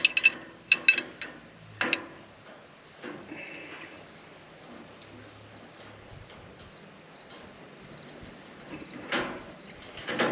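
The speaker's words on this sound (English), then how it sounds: "Wrench in there." A wrench tightening a hydraulic hose fitting on a John Deere 5115R tractor with a 540R loader: a few sharp ratcheting clicks near the start, then quiet faint mechanical fiddling and a brief clink near the end.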